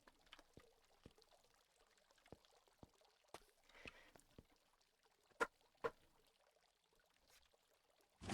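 Water pours in the Castle Flipper video game, a faint trickling stream with a few soft splashes and sharper drips scattered through, quiet and steady throughout.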